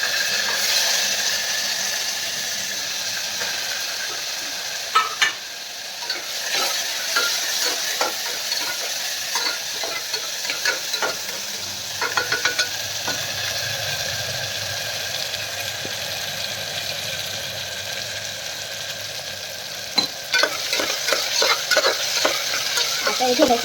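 Tomatoes and onions with curry leaves sizzle and fry steadily in a pan, with repeated scraping clicks of a spoon stirring through them close up; no one speaks.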